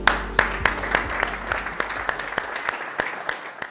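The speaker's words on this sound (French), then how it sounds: "je vous applaudis pour la semaine qui a été faite" A team applauding in distinct sharp claps at a fairly even rhythm, several people clapping nearby over a low hum, loud individual hits standing out.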